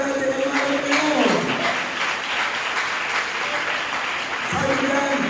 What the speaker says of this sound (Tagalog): palakpakan natin ang mga Panginoon!